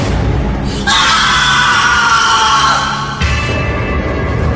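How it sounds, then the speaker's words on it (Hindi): A long, shrill scream echoes through a forest at night for horror-story effect, rising abruptly and holding loud for a few seconds before cutting off over a steady, dense background. "एक चीख जंगल में गूंजी"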